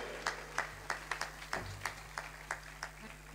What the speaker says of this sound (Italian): vorrei un grande applauso per Daniele Donadelli, fisarmonica e pianoforte